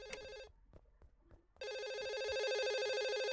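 A telephone rings in the horror video game Reaping Sins: a loud electronic ring, a pause filled with faint clicks and noises, then the ringing resumes and holds steady.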